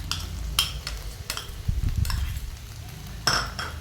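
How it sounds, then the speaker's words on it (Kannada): Gobi manchurian with garlic and crushed ginger is stirred in a pan. A spoon gives intermittent scraping strokes and clinks against the pan under a soft, low sizzle. "ಇವಾಗೆಲ್ಲ ಚೆನ್ನಾಗಿ ಮಿಕ್ಸ್ ಮಾಡ್ಕೊತಾ ಇದ್ದೀನಿ"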